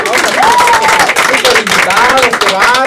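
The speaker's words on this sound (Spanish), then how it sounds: "¡Un fuerte aplauso!" A studio audience bursts into strong applause and cheering, loud and close, while voices shout excitedly over the clapping.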